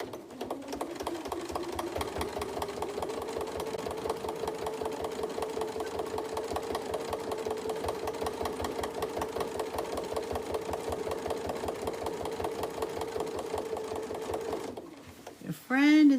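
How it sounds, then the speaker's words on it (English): A sewing machine hums and clatters steadily for about fifteen seconds, zigzag stitching a trapunto cushion, then stops, followed by a brief, sharp tonal sound at the end. "Now we're going to do it again, and then we're going to do the zigzag stitch."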